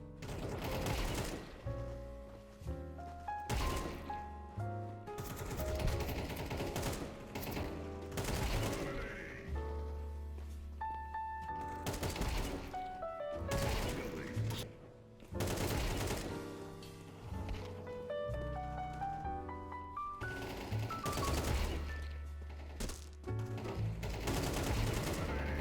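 A rifle in the video game CS2 fires from a standing-still position in rapid automatic bursts, sharp repeated shots with gaps between volleys over a background of game music, loud and close throughout.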